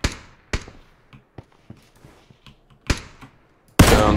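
Gunshots in the video game PUBG during a headshot kill, a series of sharp, separate cracks spaced irregularly with fainter pops between, ending in a sudden loud burst of noise.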